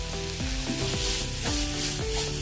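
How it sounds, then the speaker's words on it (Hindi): Masala for Pahadi-style potato curry fries in a kadhai, a loud continuous sizzle. Repeated scraping strokes of a spoon against the pan come every half second or so. "ये देखिए अच्छे से हमने भून लिया है मसाले को, कड़ाही से मसाला भी छूट रहा है।"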